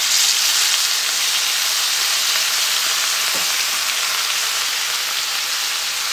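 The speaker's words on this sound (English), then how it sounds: "And that water will steam those potatoes and soften them" Steady, loud sizzling of potatoes frying in hot oil after water is added, a continuous hiss with faint crackles throughout and no talking.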